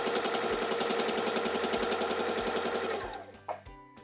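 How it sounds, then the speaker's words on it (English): A Singer Simple 3337 sewing machine stitching through fabric, a fast, even mechanical chatter running loud and steady for about three seconds, then slowing and stopping, followed by a couple of faint clicks. "you want to just press down on your foot control to start sewing."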